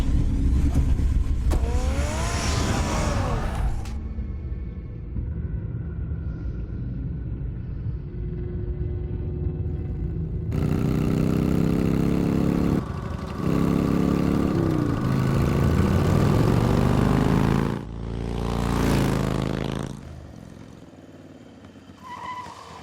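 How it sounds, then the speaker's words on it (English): Car engine in a Batman video game, loud revving and acceleration in bursts with tire noise and shifting pitch as the car drives off, no talk. "Get the car ready, Alfred"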